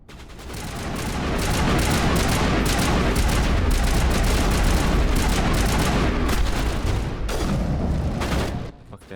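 Sustained automatic gunfire in the Mass Effect video game, a dense, loud barrage of rapid shots that rolls on for several seconds before easing off.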